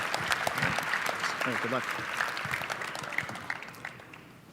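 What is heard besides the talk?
audience applause for Mack Foote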